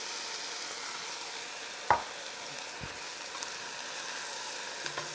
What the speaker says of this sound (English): I'm going to stir all that together.